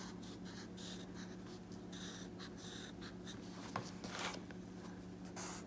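Pen writing letters on paper: faint, close scratching strokes in short bursts over a steady low hum, with no talk.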